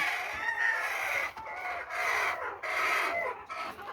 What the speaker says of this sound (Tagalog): May gumagalang manok.